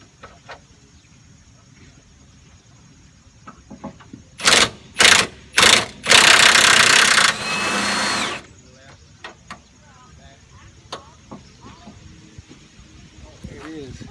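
An air ratchet or power wrench works the control arm nut on a third-generation Camaro, giving three short loud bursts and then a longer sustained run, with quiet shop sounds around it.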